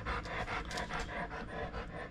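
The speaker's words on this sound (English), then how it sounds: "Yeah, you're breathing real heavy because you want another one." A dog pants heavily and rapidly close by, a steady run of quick breathy huffs lasting the whole moment, with no talking over it.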